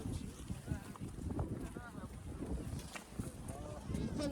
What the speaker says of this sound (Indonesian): Anginnya di sini gede banget, jadi selain dingin, anginnya gede.